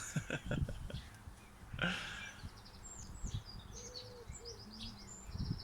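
Small birds chirping around a new birdhouse in a garden, scattered high tweets and calls at a distance, faint under soft nearby whispering speech.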